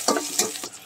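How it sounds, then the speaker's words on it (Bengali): Onions frying in a pan for a spinach and kalai dal dish, stirred briskly so a loud sizzle is broken by repeated scraping strokes of a spoon, close up and without talk. "এদিকে পেঁয়াজ ভাজা হচ্ছে।"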